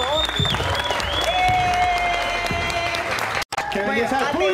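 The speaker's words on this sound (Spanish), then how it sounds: "¡Un aplauso, por favor!" Studio audience on a Spanish-language television show clapping steadily, with music and voices mixed over the applause and a brief cut near the end.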